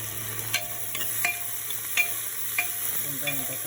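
Onion and tomato sautéing in a pan for a veg kurma: a soft, steady sizzle with a low hum beneath it, punctuated by several light scrapes and taps of a spoon stirring against the pan.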